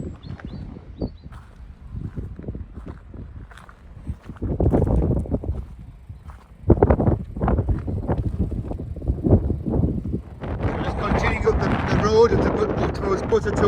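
Strong gusting wind buffets the microphone on an exposed hilltop at Buttertubs Pass, rumbling loudly in uneven surges that grow harsher toward the end.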